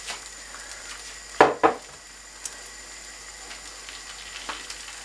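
Ham and cheese eggy bread slices fry in a pan with a soft, steady sizzle, broken by two sharp clatters of utensils early on and a few faint ticks afterward.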